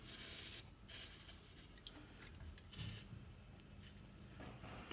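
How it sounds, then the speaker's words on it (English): An aerosol can of PB Blaster penetrating oil sprays into the cylinders of a Kawasaki Ultra 150 jet ski engine, several short hissing bursts close to the mic, separated by quiet gaps and faint clicks. "I'm just spraying PB Blaster down in the cylinders to kind of help maybe lube some of this up"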